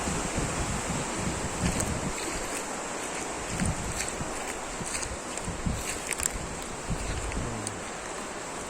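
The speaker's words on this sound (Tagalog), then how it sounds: "Medyo malakas yung tubig dito." Steady rushing water roars continuously, a strong current with constant broadband noise and occasional splashy surges, no voices.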